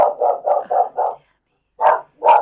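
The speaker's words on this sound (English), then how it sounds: "there could be a bark alert" A dog barks close by in a rapid run of five barks, then after a short pause gives two more, loud and distinct with no one talking.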